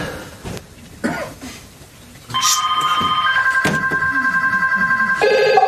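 Several telephones ring at once in an office scene in a stage play, their electronic trills overlapping loudly and continuously after a few coughs and quieter sounds.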